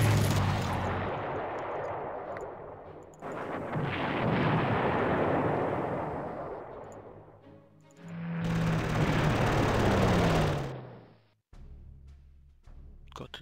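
Artillery rocket bombardment in the Panzer Corps wargame: loud, dense bursts of blasting and rumbling fire in several long waves, with a brief gap and a sharp cutoff near the end.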